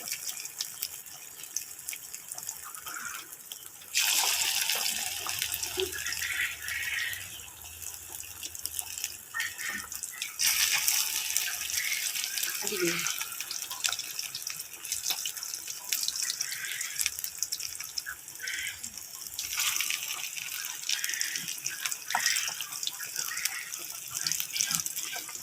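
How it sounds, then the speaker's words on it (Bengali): Fish fritter batter dropped spoon by spoon into hot oil, frying with a steady close hiss and crackle that swells in bursts and runs on without speech. "তেলটা গরম হওয়ার পর আম্মু একটু একটু করে দিয়ে দিচ্ছে।"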